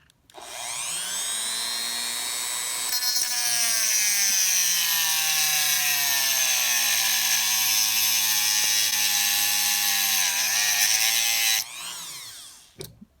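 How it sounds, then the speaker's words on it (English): Dremel cutoff wheel cutting a slot into a damaged screw on a Kyosho FW-05T RC car chassis, a sustained high-pitched whine whose pitch sags and recovers under load, close and loud, then stopping abruptly. "we're going to have to use the problem solver"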